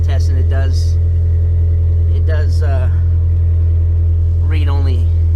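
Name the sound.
4AGE 20-valve engine idling in swapped Geo Metro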